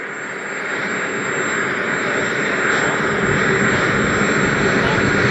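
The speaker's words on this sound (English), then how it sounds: "the number of turbine jets in the background sounds like a busy airport" Turbine jet engines of model aircraft at an airfield give a loud, steady whooshing roar that slowly builds in level, with a high whine on top and no talking.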